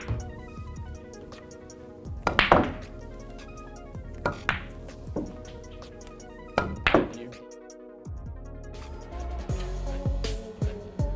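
Pool balls clacking as a cue strikes them during a run-out on a billiards table, several sharp knocks spaced irregularly over a steady background hum, with no talk.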